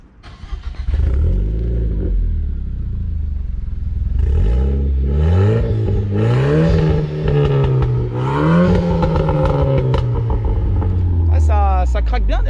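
A tuned car with a stock-block 1.6L turbo engine and a GT Performance exhaust revs loudly and repeatedly, the engine note climbing and falling before sharp crackles at the end.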